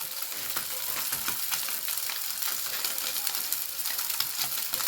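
Salmon searing in a dry pan with no oil, a dense, even sizzle and crackle holding steady throughout, close and alone.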